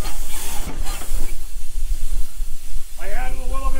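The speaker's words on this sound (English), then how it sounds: "I added a little bit of steam to use it as the brake." A steam traction engine rolls while a small amount of steam is fed in as a brake, giving a loud, broad hiss with a brief burst, followed by a steadier hiss with whistling tones.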